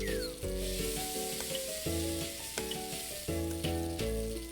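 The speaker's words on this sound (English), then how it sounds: "Touch the icon to add in the ingredients and sauté without burning." Ingredients sauté with a constant sizzling hiss in a cooking video game, under loud, bouncy game music that plays throughout.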